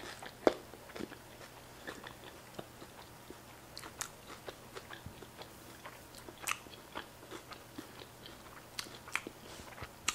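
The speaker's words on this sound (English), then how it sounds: "let me finish eating this" Close-up eating of a Puerto Rican-style steak burrito and potato tacos, with soft, irregular bites, chewing and occasional crunches spread across a quiet room with no talking.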